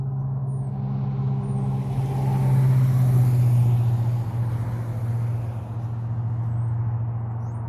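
Vehicles drive past on a road beside a home garden, a broad rumbling swell that builds, peaks and fades under a steady low hum.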